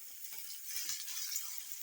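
Ridge gourd sautéing in a pan for chutney, a faint soft sizzle with light stirring scrapes, quiet and brief with no voices.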